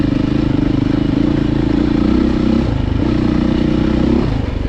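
A Beta dirt bike engine drones steadily up close while riding, with a constant loud hum and some clattering from the motorcycle as it engine brakes off throttle and the rear wheel skids.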